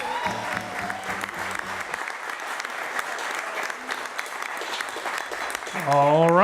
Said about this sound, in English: Let's give those two a round of applause at this time.